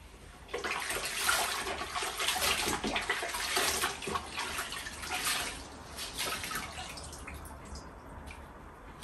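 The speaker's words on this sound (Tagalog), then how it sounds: "ito, mainit na tubig para mas mabilis na matiyo itong sahig" Hot water pours steadily into a bucket for mopping a house floor, a continuous splashing rush that stays loud and unbroken for several seconds, then eases slightly toward the end.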